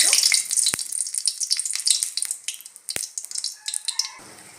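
Dried red chillies sizzle and crackle steadily in hot oil in a kadai, with a few sharp pops and a busy frying hiss that stays close and fairly loud before tailing off at the end.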